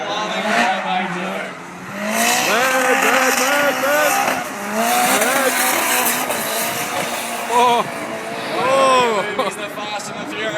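Drift cars slide around the track at Calder Park, with loud, wavering tire squeals rising and falling over a continuous roar of engines throughout.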